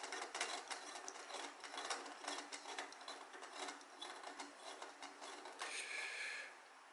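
A gold screw-in topper on a solar flag light being unscrewed, giving a steady run of fine ratcheting, grinding clicks close up for several seconds with no voices.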